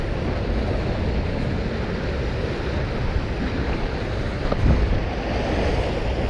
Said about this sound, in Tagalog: Kasi malakas na agos.